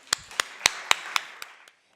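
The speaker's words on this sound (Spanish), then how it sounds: "Un aplauso a todos, por favor." A handful of sharp claps ring out one at a time at an event, about six distinct slaps fading to silence, with no voices.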